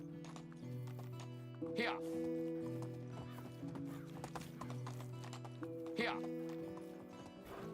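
Horse hooves clip-clop in the medieval game Medieval Dynasty, a steady rhythmic trot under game music with a couple of brief whinny-like bursts, while a player briefly speaks over it.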